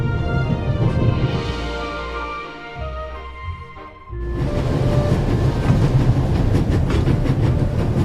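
A train in The Raven rattles along the rails with a loud, steady clickety-clack, easing into a brief lull before the rolling rumble picks up again, full and close.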